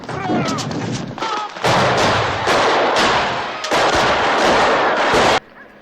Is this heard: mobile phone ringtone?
no